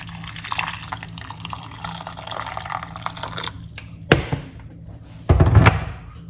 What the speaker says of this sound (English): Pour some hot water on it.